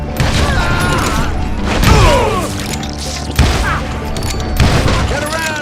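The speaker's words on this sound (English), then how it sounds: "Sounds like Garrett hired a whole regiment of hired guns." Gunfire from hired guns in the Western shooter Call of Juarez: Gunslinger, with bursts of shots, booms and impacts over a busy game soundscape, heard close and loud with voices mixed in.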